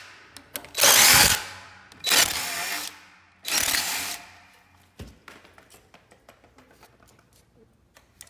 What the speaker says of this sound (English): So we're gonna just drill these out.